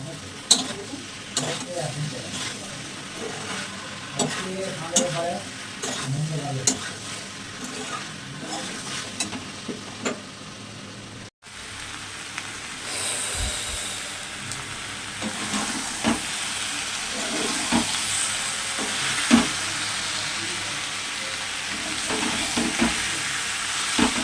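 Spices and ingredients sautéing in a pan in a home kitchen, a loud continuous sizzle with repeated scraping strokes of a spatula stirring, a brief dropout midway, then the frying grows brighter and hissier.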